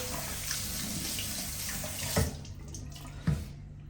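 Shisha parts are rinsed by hand under a running tap, a steady close stream of water with two brief louder splashes as hands move the pieces, no talking.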